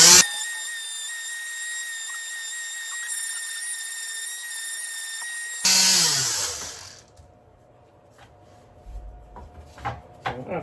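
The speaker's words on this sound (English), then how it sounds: "So again, sanding." Power sander working a wooden offcut for a model railway baseboard, a loud steady whine for about six seconds that cuts off abruptly, followed by quieter clattering and knocks of handling the piece.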